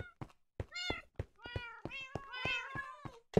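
Cats meow in Minecraft, a quick string of about a dozen short, clear mewing calls that come in bursts and sound close. Nobody speaks.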